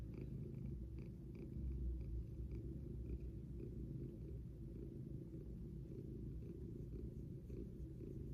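A cat purrs close by, a soft, low, continuous rumbling with a steady rhythm that runs through the whole stretch with no talking over it.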